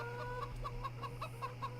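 Chickens in the Farming Simulator 17 video game cluck in a steady series of short, repeated calls over a constant low hum.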